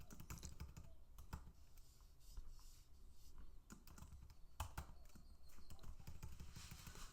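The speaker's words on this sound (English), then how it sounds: "Definitely have a little problem typing this morning." Faint, quick typing on a computer keyboard, an uneven patter of soft key clicks with a few louder taps over about seven seconds, no one speaking.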